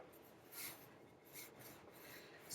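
Dumpling dough for chicken and dumplings rolled out on a floured silicone mat, a soft rasping scrape that swells and fades in a few slow strokes, quiet and close with no talk.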